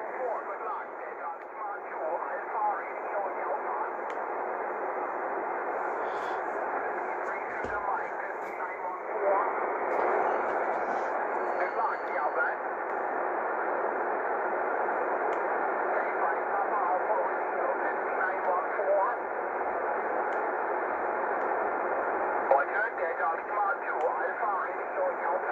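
Radio receiver static with single-level noise reduction switched on, a steady muffled hiss with a narrow, band-limited tone that runs on continuously, with faint traces of a distant broadcast voice buried in it.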